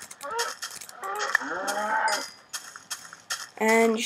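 Video game cows moo in several drawn-out, nasal calls with short breaks between them, close and clear, with no talking over them.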